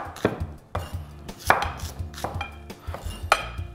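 Peeled onions being roughly chopped with a knife on a board, a string of uneven sharp knocks close by, some spaced and some in quick pairs, with no talking.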